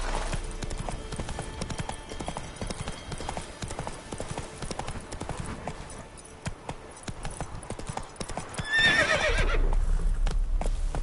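A horse gallops with fast, steady hoofbeats throughout, then gives a loud, close neigh near the end.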